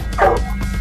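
Hunting hounds bay on a coon hunt, a short burst of dog voices heard alone and at moderate distance.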